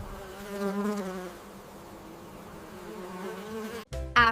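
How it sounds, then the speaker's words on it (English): A bee buzzes steadily at close range with a wavering drone that swells and fades, then breaks off abruptly near the end. "It's a bee."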